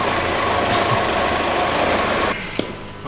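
A big bus engine idles close by, a steady low rumble that drops a little near the end, with a brief hiss or click.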